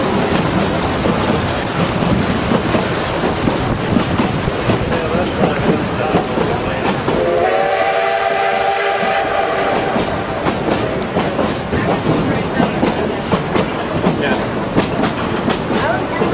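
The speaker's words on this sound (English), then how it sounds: "we're on the train. We just left Durango." A narrow gauge train pulls out of Durango, its steady rumble and rhythmic clatter running throughout, with a loud, sustained horn blast sounding midway.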